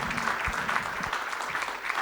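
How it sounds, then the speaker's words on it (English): Faint, brief applause from a conference audience for a panel of speakers at a business event, a soft patter of clapping heard at a distance. "if you could give a massive round of applause to Marta, Zsuzsa, Marta and Alena for their comments"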